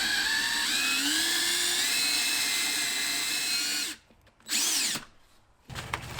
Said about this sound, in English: you can go ahead and get yourself a drill and a bit. So I actually have a 1/4 inch bit. We're going to start with that first, and I'm basically going to drill this out